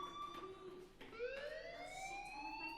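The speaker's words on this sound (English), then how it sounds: "Hey, do you hear that fire alarm?" School fire alarm in Life is Strange, a wailing electronic siren tone that holds steady and then sweeps upward, fairly faint and continuous with no talk.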